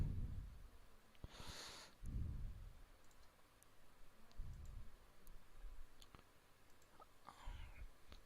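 Quiet, sparse clicks of a computer mouse, a few isolated taps spread apart with soft handling noise between them, while checking and saving a CMOS inverter circuit diagram.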